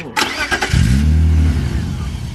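An old BMW six-cylinder engine cranks and catches after a short clatter, then settles into a loud, rough, uneven idle that suggests a misfire on one cylinder.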